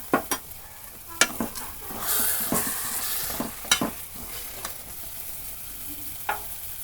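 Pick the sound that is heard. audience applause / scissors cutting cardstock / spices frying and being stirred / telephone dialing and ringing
spices frying and being stirred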